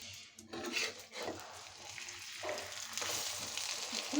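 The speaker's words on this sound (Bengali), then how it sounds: "ডিমটা আমার ভাজা হয়ে গেছে" Eggs fry in a pan with very little oil, making a soft, crackling sizzle with light scraping and stirring sounds, quiet and close, with no talk.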